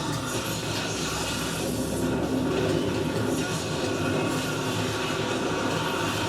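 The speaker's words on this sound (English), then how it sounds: "smash him into the train that's coming by" A train rushes past in the DmC Devil May Cry video game, a loud, steady roar with rattling wheels and metallic grind sustained throughout, no speech.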